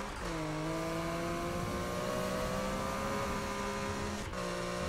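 A Porsche in Need for Speed (2015) accelerates hard, its engine note climbing steadily in a loud, continuous whine before a brief shift near the end.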